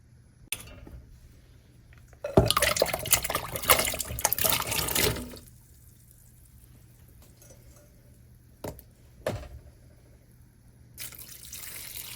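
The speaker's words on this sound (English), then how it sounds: "So I'm going to drain and rinse these" Tap water runs over soaked lima beans as they are drained and rinsed in a sink, a loud rushing splash for a few seconds, then quieter drips and short splashes before the flow resumes near the end.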